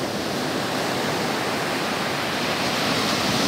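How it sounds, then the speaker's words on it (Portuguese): Strong ocean waves break at Praia da Armação beach in Penha, Santa Catarina, heard as a continuous loud broadband roar of surf with no pauses and no voices. "Quebra-se onda muito forte aqui"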